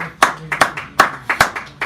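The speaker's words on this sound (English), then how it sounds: "So give Britt a round of applause as he comes up here, ladies and gentlemen." A small audience claps for a poet stepping up at a cafe poetry reading, with sparse, uneven hand claps close by over a couple of seconds.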